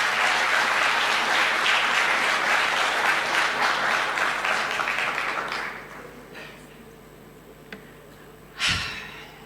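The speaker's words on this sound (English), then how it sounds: "Dr. Fatma, a lot of applause, please." Dense, sustained applause from a graduation ceremony audience, loud and steady for about six seconds before thinning out and fading, with a last brief burst of sound near the end.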